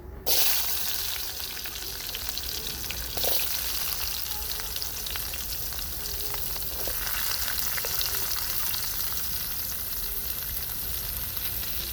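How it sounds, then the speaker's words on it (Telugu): Onion pieces fry in hot oil where mustard seeds have already crackled, for a chicken head curry: a loud, dense, continuous sizzle fills the whole stretch close up, with a few faint clinks and no talking. "ఆవాలైతే చిట్టుపట్లు ఆడేసి ఇప్పుడు ఎర్రగడ్డ ముక్కలు అయితే వేసుకుందాం"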